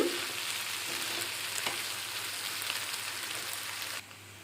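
Brinjal, broad beans and ginger fry in a pan, a steady close sizzle and crackle with occasional stirring, dropping quieter near the end.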